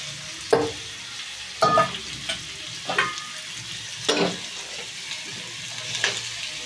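Sliced onions fry in a pan with ridge gourd, giving a soft continuous sizzle broken by several distinct scraping stirs at a steady pace, with no voices.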